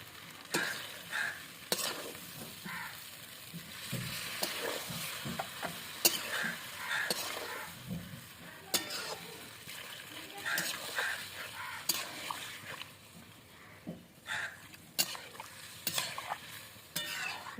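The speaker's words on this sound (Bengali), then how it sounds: "এবার আমি এতে জল দিয়ে দেবো।" Drumsticks and potatoes simmer in a pan as water goes in, with steady stirring clatter and sizzling throughout, punctuated by sharp utensil clicks; a soft voice murmurs faintly at times.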